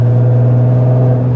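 Nissan GT-R R35 engine, about 700 horsepower, droning loudly in a strong steady tone under acceleration, heard close from inside the car with no talking.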